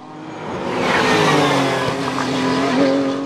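Race cars of the ROSCAR 124 series at the Dijon-Prenois circuit, loud and close. A continuous engine roar swells and holds as the cars pass along the straight, with a faint tire squeal mixed in.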